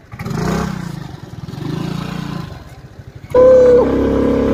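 Vespa scooter riding through Thamel in Kathmandu at night, a steady rumbling engine hum with a wavering revving pitch, then a louder, harsher engine note with a whining tone taking over near the end.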